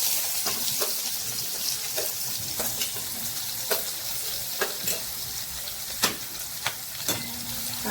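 Chopped onion sizzling in hot tempering oil with cumin for a vegetable dish, a steady frying hiss with occasional sharp pops and stirring clicks, close and alone without talk.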